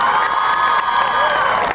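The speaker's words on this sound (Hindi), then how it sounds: "एक बार जोरदार तालियां बजा करके हंगामा।" Kavi sammelan audience at a college poetry recital bursts into loud, dense clapping mixed with cheers and whoops, a brief close-up roar of crowd noise.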